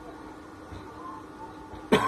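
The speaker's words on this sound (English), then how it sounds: "excuse me, I have to cough." A single short cough bursts out near the end, close and fairly loud, after a stretch of quiet room tone.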